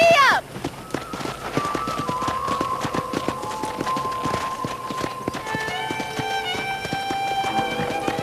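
Horse hooves clip-clopping at a steady run in the Red Dead Redemption video game, the rhythmic beats running through the whole stretch over game music, with a voice briefly calling out.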